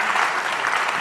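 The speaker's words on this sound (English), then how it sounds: "can we maybe give a little round of applause for Billy and David?" Brief burst of audience applause at a live show, a dense, even patter of many hands clapping, close and fairly loud for about a second.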